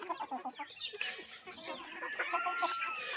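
Desi hens gathered around water to drink, clucking and calling close by in short repeated bursts, with busy overlapping fowl noises throughout.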